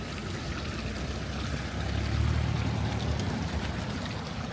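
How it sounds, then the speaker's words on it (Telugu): Steady trickling and gurgling of a small stream flowing through a village in Germany, a continuous watery wash that swells slightly midway, with no voices. "మధ్యలో నుంచి ఒక కాలు వెళ్తుంది, చిన్న రివర్ లాగా."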